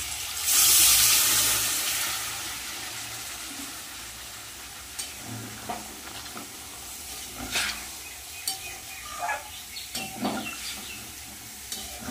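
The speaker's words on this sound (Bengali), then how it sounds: "জল দিয়ে দেবো।" Water poured into a cooking pan of pointed gourd and potatoes, a loud hissing splash at first that settles into a quieter bubbling simmer, punctuated by scattered spoon clinks and stirring scrapes.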